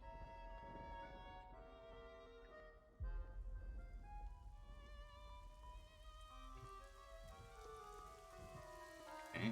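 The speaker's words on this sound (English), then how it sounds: "Okay, it's raining" Steady rain falls in a storm scene of the video game AI: The Somnium Files, a continuous wash of drops under sustained music tones, with a heavier low rumble joining partway through and no voices.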